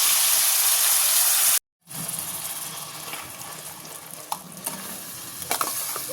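Onion cashew paste frying in a pan for paneer cashew masala, a loud sizzling hiss that cuts out briefly, then resumes softer with stirring scrapes and small pops.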